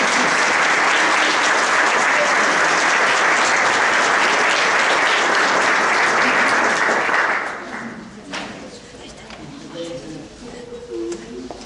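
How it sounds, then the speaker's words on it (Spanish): An audience at a school flag-pledge ceremony for students in Zapala applauds loudly and steadily for about seven seconds, then the clapping tapers off into scattered claps and murmuring. "Fuerte el aplauso."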